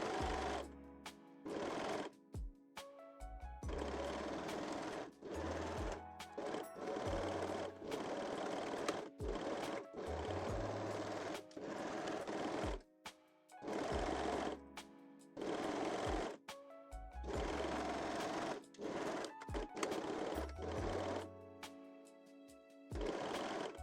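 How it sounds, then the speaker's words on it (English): A sewing machine stitching bra cup darts in short bursts of rapid, whirring stitches, separated by brief pauses, close and clear with no talking. "And sew your cup darts."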